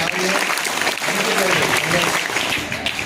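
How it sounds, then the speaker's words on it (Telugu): Sustained applause from a school audience at an Independence Day celebration as prize winners step forward, steady and loud across the whole stretch with a faint voice mixed in. "గట్టిగా చప్పట్లు కొట్టాలి"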